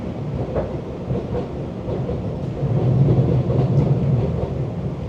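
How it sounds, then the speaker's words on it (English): A Class 345 Alstom electric train on the Elizabeth line rumbles steadily with a low, continuous roar, growing slightly louder midway, with faint rhythmic clatter of wheels on track. "This is a Class 345 Derby-built Alstom adventure train operated on the Elizabeth line."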